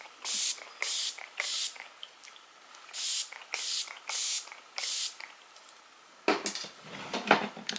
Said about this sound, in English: that's what a setting spray is. It melts everything together and it sets it by melting it.